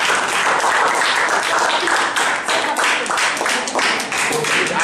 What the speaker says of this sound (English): Okay, claps please.